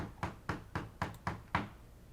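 Six evenly spaced knocks sound on a door, each a sharp rap in a quick steady rhythm, fairly quiet with no voices.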